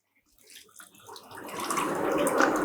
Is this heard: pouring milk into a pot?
yes